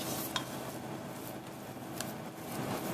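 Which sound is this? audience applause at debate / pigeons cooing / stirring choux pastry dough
stirring choux pastry dough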